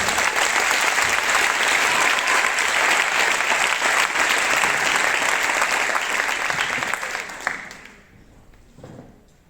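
A graduation audience gives loud, dense, sustained applause for a music-contest winner, tapering off sharply near the end into quieter room sound.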